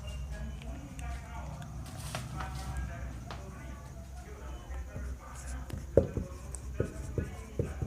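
Marker or chalk scratches on a board during a physics lecture on units and dimensions, faint strokes and a few sharp taps over room noise, with a teacher speaking at moments.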